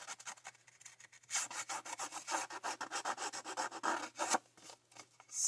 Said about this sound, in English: so I will scratch the sides at first, making a little bit of noise.